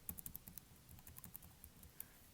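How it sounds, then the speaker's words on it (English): Computer keyboard keys pressed repeatedly in quick, uneven taps, light clicky strikes close by and fairly quiet, with no talking. "I'm pressing my keys here, you can probably hear that."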